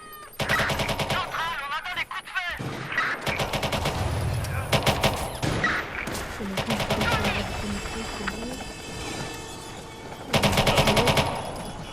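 Gunfire in a police video game: bursts of rapid automatic shots and single cracks, loud and close, with sirens, engines and game voices mixed in.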